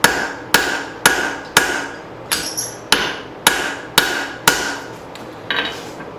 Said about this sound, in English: without keeping that in check by hammering it back down,